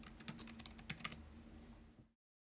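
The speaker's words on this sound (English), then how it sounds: "You want to first type in the course name in this cell at the top" Quick bursts of typing on a computer keyboard while entering a course name into a spreadsheet cell, the clicks close and irregular, then stopping abruptly into silence.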